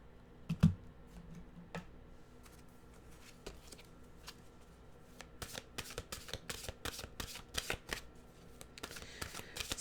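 A deck of mantra cards being shuffled by hand, with soft riffling at first, then a denser run of crisp card flicks and slaps, close and fairly quiet.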